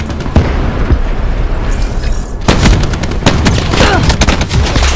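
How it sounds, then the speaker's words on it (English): Shotgun blasts ring out in Call of Duty Black Ops 4 team deathmatch, loud sharp booms with other gunfire rattling close by and in the distance, and no talk over them. "that was a shotgun"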